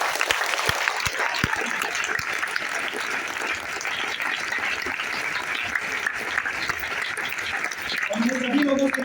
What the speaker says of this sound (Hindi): मैं चाहता हूं कि थोड़ी सी तालियां बजा लीजिए